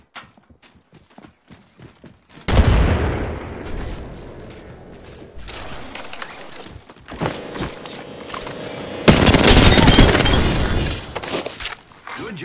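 A frag grenade exploding in Apex Legends, a sudden loud blast with a crashing, debris-filled tail that fades over a couple of seconds, followed later by another loud burst of noise amid scattered game sounds.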